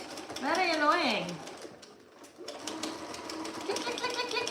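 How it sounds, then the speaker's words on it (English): Sewing machine clicking softly while hemming trousers, a faint rapid patter beneath a woman's nearby speech. "Can you hear that clicking? Very annoying."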